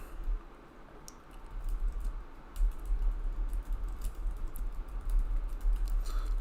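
Typing on a computer keyboard, a quiet run of soft, irregular key clicks and taps, close to the mic over a low hum, with no talk.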